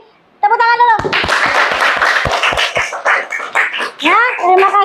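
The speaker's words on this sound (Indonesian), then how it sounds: "sekarang kita kasih tepuk tangan dulu" A classroom of students claps for classmates who answered, about eight sharp, evenly spaced claps in a quick rhythm, with voices calling out before and after.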